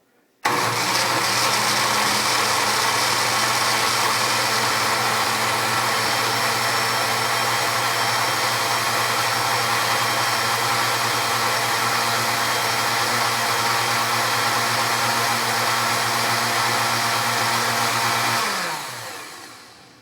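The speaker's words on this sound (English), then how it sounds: "Now we're going to blend this together before we add anything else." A countertop blender whirs steadily for about eighteen seconds, blending coconut juice and coconut meat into coconut milk, with a loud, constant motor drone that starts abruptly and then winds down at the end.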